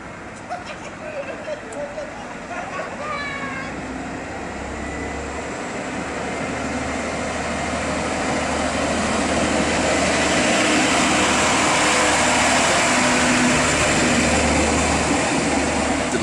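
A diesel railcar on the unelectrified Hohenlohe railway, a low engine drone that builds gradually from faint to a steady loud rumble. Someone speaks over the start.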